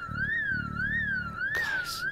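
Rising and falling electronic alarm wailing in the Project Zomboid video game, a loud repeating siren sweep heard alone with a short noisy burst near the end.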